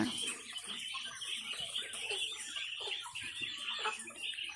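A flock of egg-laying quail kept for sale chirps and clucks in busy, overlapping high calls, fairly faint and continuous.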